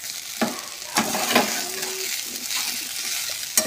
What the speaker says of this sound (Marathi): आणि मस्त आता परतून घेते.